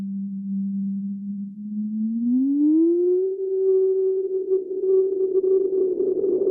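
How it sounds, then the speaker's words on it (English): Steady sine tone from a Synthesis Technology E330 multimode VCO, alone and loud, sliding smoothly upward in pitch midway, then holding a higher note with faint added overtones and slight roughness toward the end. "we're listening to the sine wave output"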